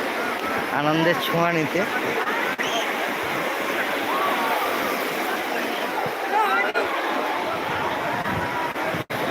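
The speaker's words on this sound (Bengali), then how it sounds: "দীঘার ঢেউ এখন একটু কম আছে" Sea waves roll onto Digha beach in a steady, broad wash of surf that lasts the whole stretch, with someone talking over it throughout.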